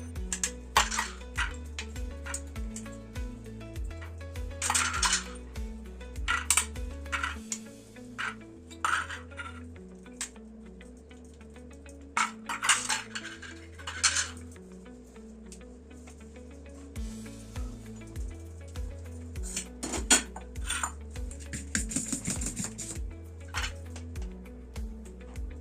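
Metal idli plates clink and clatter repeatedly at close range while batter is spooned into them, with a steady rhythmic background music bed running throughout.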